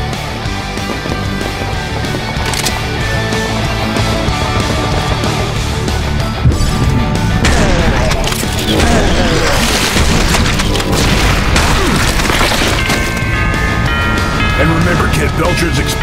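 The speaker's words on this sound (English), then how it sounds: "creatures explode so stay clear of their barf radius" Creatures blow up in the first-person shooter Serious Sam 4 amid loud gameplay, with deep booms and bursts crowding a dense mix of gunfire and effects, a narrator talking over the din.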